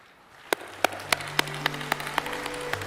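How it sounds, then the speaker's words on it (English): Applause at a formal opening ceremony, heard as sparse, distinct claps that begin isolated and quicken into a light, steady patter, fairly soft and somewhat distant over a faint hum. "Now, with a round of applause,"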